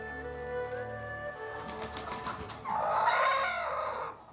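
Chickens at Kaduri Farm, a flock kept in a farmyard, cluck and call in a busy mix, a louder burst of squawking and possible wing flapping swelling up near the end before fading.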